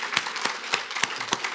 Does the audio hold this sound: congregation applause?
yes